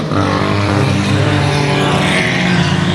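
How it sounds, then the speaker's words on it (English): A race car at Boothill Speedway roars past during a race, a loud, close and continuous engine drone that fills the whole three seconds with no talk. "Car lost a lot of power. You could hear it."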